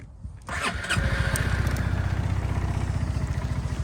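A Honda Forza MF-08 250cc fuel-injected scooter starts with a brief cranking whir, catches, and settles into a close, steady, even-pulsed idle.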